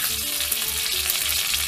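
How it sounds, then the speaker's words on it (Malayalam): Chopped curry leaves sizzle in hot oil with popped mustard seeds for a samosa filling, a continuous close crackling fry with faint stirring and no talk. "കടുക് പൊട്ടി കഴിയുന്നതോടുകൂടി തന്നെ നമുക്ക് കറിവേപ്പില ചെറുതാക്കി അരിഞ്ഞിട്ട് കൊടുക്കുക"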